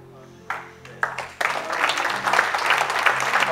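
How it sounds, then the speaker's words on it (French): Applause breaks out at the close of a church blessing for a Christian bikers group, starting with a few separate claps and swelling into dense, steady clapping from a congregation, with faint voices underneath. "Ah oui, on peut vraiment applaudir."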